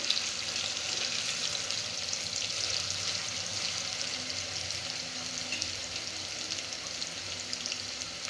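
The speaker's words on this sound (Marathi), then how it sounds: "बटाटा देखील छान असा बारीक गॅसवर परतून घ्यायचा" Diced potato sautés gently in a pan over a low flame for kanda poha, giving a faint, even, continuous sizzle with no talking.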